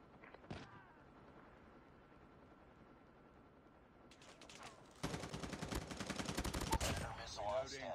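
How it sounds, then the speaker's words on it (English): A deployed sentry gun in a mobile shooter game opens up in a dense, rapid automatic burst after a quieter stretch with a few faint shots. The burst is loud and sustained to the end. "Sentry gun deployed."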